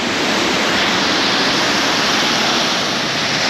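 Steady, dense roar of a rainforest waterfall heard from nearby below it, a loud continuous broadband rush of falling water with no talk.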